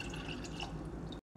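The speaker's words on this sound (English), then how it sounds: "cup of water" Water pours steadily into mason jars over sliced onions and vinegar while a pickled red onion brine is mixed, a close, continuous liquid trickle that stops abruptly at the end.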